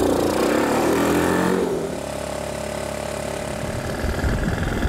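A tilting trike's engine pulling away in gear on a cold country road, a loud rough drone that drops to a lower steady idle-like hum midway, continuous and close.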